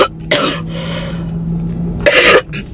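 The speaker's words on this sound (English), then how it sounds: "This cough that I have is really annoying" Two sharp, loud coughs from a sick person, one near the start and one near the end, with a quiet breathy gap between them, recorded close up indoors at a McDonald's.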